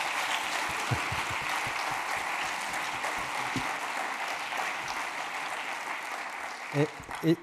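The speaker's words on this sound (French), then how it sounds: "D'abord, on va applaudir Marek." A crowd applauds steadily, a dense wash of clapping that holds throughout before a few louder sounds at the very end.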